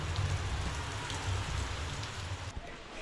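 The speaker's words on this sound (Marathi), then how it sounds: "पाऊस बघा काय लागतं" Steady rain falls close by in a continuous hiss, with a low hum underneath and no voices.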